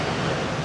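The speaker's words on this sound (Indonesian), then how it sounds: "dapat tak you rasakan angin malam yang bertiup? Ombak yang beralun mendayu-dayu." Ocean waves roll in on a night wind, a steady broadband wash of surf and breeze holding constant loudness through the short stretch with no distinct breaks, heard alone without voices.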